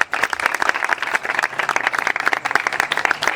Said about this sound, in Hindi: जोरदार तालियां बजाएंगे यीशु का जलाल।